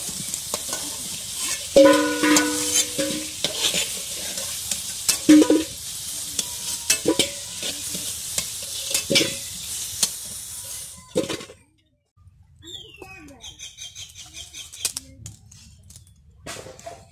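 Chicken pieces, a country chicken for a curry with potatoes, frying in a pan, with a steady sizzle and repeated stirring clatters over about eleven seconds, then a short quiet pause before softer sizzling resumes.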